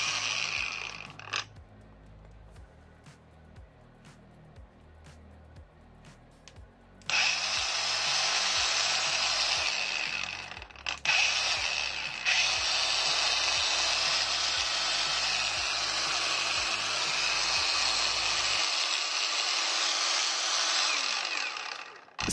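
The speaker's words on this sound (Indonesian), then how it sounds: "Dan seperti inilah suara gerindanya." Cordless angle grinder starting up and running with a steady high whine, preceded by quieter clicks and handling, then spinning alone for several seconds before stopping abruptly.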